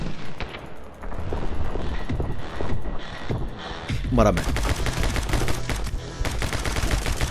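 Rapid bursts of gunfire in the video game My Friend Pedro crack out in quick succession over game music, with a short burst of speech from a man partway through.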